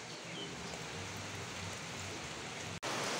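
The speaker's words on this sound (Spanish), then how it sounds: "se fue el sol, empezó a llover." Steady rain pours down on a hot afternoon, a dense, even hiss filling the scene from start to finish, with only a momentary break near the end before it resumes.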